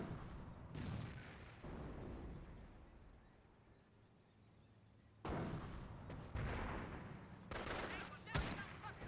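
FG42 rifle gunfire in a 4v4 match on a video game map, several loud bursts of shots after a quieter stretch of distant rumbling battle noise.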